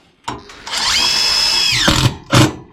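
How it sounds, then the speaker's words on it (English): A power drill drives screws into skylight framing, revving up in a loud, close whine that holds steady for about a second, then winds down, followed by a shorter second burst. "We add more screws at the bottom."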